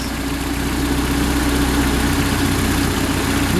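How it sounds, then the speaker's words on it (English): A Mercruiser 3.0 inboard engine in a Bayliner 175 boat idles smoothly on its own, a steady low rumble with an even hum that holds constant and close. "the engine idle now is smoothed out"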